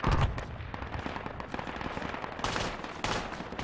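Rapid gunfire in Project Reality, bursts of rifle and machine-gun shots cracking repeatedly with echoing reports, loud and near, a heavier blast at the start and another burst near the end.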